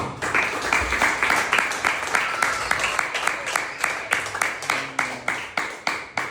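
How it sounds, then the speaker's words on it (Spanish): A church congregation claps together in a steady rhythmic beat, loud and sustained throughout, with some voices mixed in under the clapping. "¿Cuántos le dan un aplauso a eso?"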